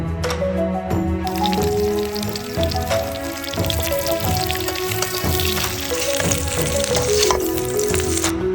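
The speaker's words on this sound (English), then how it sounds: "Add ginger and scallion, then the whole spices, and stir until fragrant." Ginger, scallion and whole spices sizzle in hot oil while being stir-fried for a hong shao rou pork belly braise: a dense, steady crackle that runs throughout, with a musical background layered over it.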